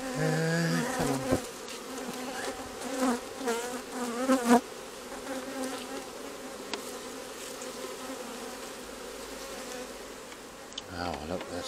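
Honey bees buzz steadily and loudly throughout a beehive inspection, a dense close swarm drone with wavering pitch, while a person briefly speaks near the start.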